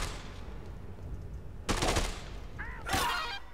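Assault rifle bursts in the video game Dead Rising 2: two short, loud volleys of rapid gunfire, the second preceded by a brief mechanical ping, with no talk over them.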